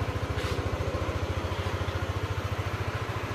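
Yamaha Aerox scooter engine idling as it warms up, a steady close putter with even rapid low pulses throughout, no voices.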